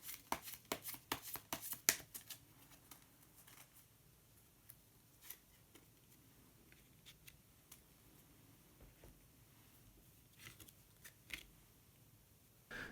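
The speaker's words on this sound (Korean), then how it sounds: "마지막으로 색깔로 알아보는 컬러 카드 한 장 더 뽑아보도록 하겠습니다" Tarot-style cards are shuffled and a single color card is drawn for a new-year fortune reading: a flurry of soft, close card flicks and slaps at the start, then sparse light taps in a quiet room with no talking.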